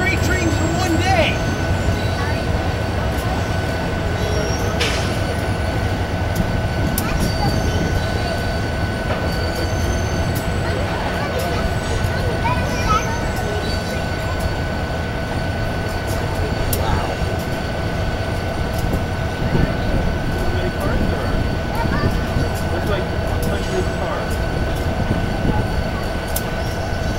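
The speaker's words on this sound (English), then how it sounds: "Two freight trains in one day!" A freight train rolls along the elevated High Line rail line, its steady, heavy rumble and wheel noise filling the whole stretch without a break, with faint squeals riding on top.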